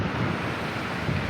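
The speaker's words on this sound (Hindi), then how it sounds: "कितनी स्पीड नाल पानी गुजर रहा है।" Fast-flowing river water rushing through Head Panjnad barrage, a dense, loud, continuous roar with no talk.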